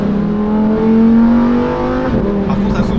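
A sports car engine revs with its exhaust valves open, a loud, rising, raspy drone that dips near the end, with people speaking over it.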